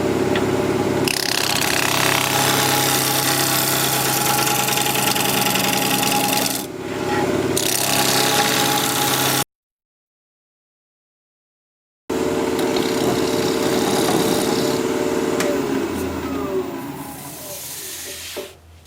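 A wood lathe spins a sycamore blank at 2000 RPM with a steady, loud whirring hiss and scraping as the tool cuts. After a short gap of silence it resumes, then the sound tapers off toward the end.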